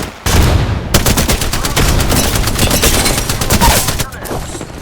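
Rapid automatic gunfire in a video game shooter, a loud dense stream of close shots with repeated cracks for about four seconds, then trailing off into quieter background game sound.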